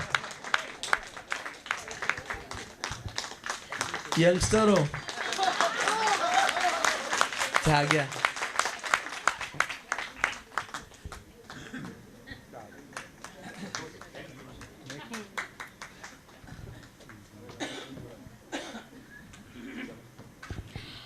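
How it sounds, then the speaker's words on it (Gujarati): An audience claps at an award ceremony in Ahmedabad. A loud burst of applause fills the middle of the passage, and someone speaks over it before and after as the clapping fades. "તાળીઓ થોડી જોરથી પાડો"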